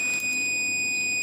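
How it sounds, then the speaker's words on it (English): A multimeter set to continuity test sounds a steady, high electronic beep while its probes touch a piece of tinned wire. The single tone holds clearly and evenly through the whole moment, with no talk over it. "beep that is being heard from the multimeter"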